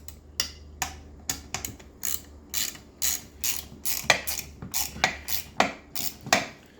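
A small ratchet with a short handle clicks in quick, repeated bursts of sharp, close ticks with brief pauses between them while crank bearings go into a Husky 55, and no one speaks.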